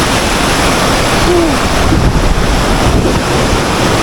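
Rushing water pours down at Kapas Biru waterfall in Lumajang. It makes a loud, dense, unbroken roar heard up close, with a hint of wind buffeting the microphone.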